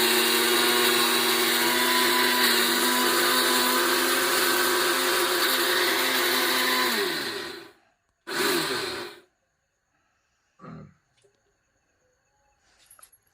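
An electric grinder works through a kilogram of chillies that are overheating, whining loud and continuous for about seven seconds before winding down, then one short second burst, followed by near-quiet with a faint knock.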